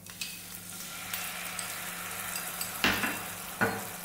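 Cornflour mixture poured into sizzling carrot fry for carrot 65, a steady frying hiss with two sharp, louder bursts of sizzle near the end as the liquid hits the hot oil.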